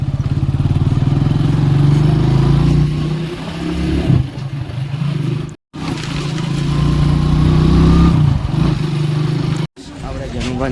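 A motorcycle engine chugs and revs at close range, with its loud, steady rumble broken by two brief dropouts, while a voice talks over it.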